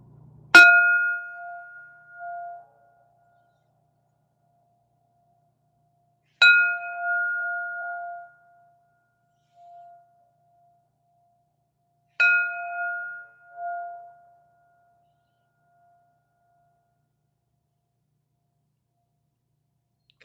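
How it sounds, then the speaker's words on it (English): A meditation practice bell is struck three times, about six seconds apart, each strike a clear ringing tone that decays slowly into silence. "All right, moving into third bell."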